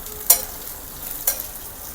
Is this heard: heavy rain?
no